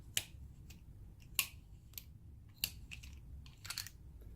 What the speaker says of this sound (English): this top piece here, you can hear has a really nice click to it, and it locks into place